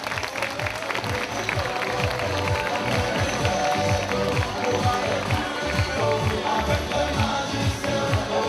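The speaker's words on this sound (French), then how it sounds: "On les applaudit bien fort." An audience at a children's fashion show in Auray applauding, dense continuous clapping from a large crowd, steady and loud throughout.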